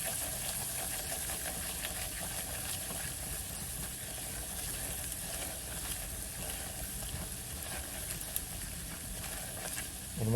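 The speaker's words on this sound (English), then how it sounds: "I'm going to mix it around. Make sure you cook that flour out." Flour and fat cooking and being stirred over medium-high heat for gravy, a steady, even sizzle with faint scraping that holds throughout, close and moderately quiet, with no talking.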